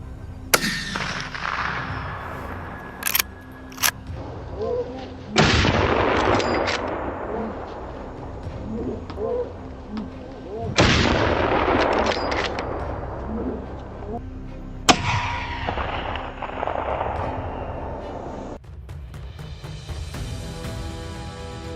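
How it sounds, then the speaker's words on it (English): Gunfire during a wild boar hunt in snow, with several sharp broadband bursts and blasts at intervals, each trailing off into echoing decay, fairly loud and close against a rumbling outdoor background. "Simultaneously, from all sides, gunfire erupts"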